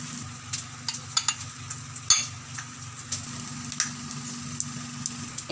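Squid and dried fish fry in a pan while being stirred, a steady sizzle broken by repeated scraping and clacking of a utensil against the pan at close range.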